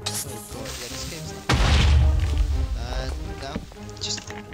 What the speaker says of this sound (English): That explosion was me.